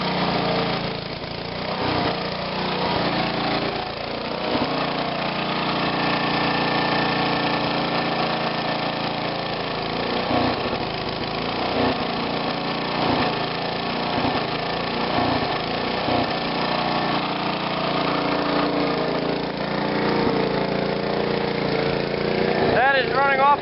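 A 1954 Kohler 1.5M25 generator engine runs steadily and loud throughout, powering a 175-watt light, its mid-pitched drone carrying a few uneven stutters under a voice.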